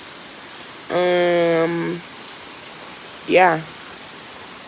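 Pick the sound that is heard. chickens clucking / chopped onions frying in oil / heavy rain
heavy rain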